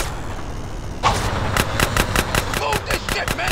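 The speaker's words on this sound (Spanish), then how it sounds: "el sonido de las balas no me dejan escucharte." Rapid bursts of gunfire in GTA San Andreas crackle loudly after a brief quiet start, with sharp repeated shots in quick, uneven clusters.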